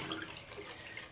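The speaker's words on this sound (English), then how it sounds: "I'm going to take this brush and I'm just going to wet it down, and I'm going to let there be warm water, not scalding hot" Warm water runs from a tap to wet a shaving brush, a soft, steady splashing hiss heard alone at low volume.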